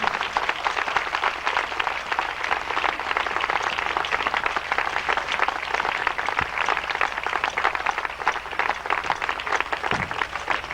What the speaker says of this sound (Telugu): చప్పట్లు కూడా అందరూ గట్టిగా.